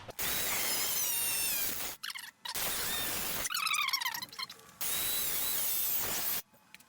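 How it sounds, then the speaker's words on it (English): Power cutting tool working through the rear bumper of a Nissan 350Z during a KBD body kit fit, loud harsh whining bursts with short pauses between cuts, a higher squealing pass in the middle, no talk. "this is where I'm gonna cut so that it doesn't burn the bumper like how it did with the OEM"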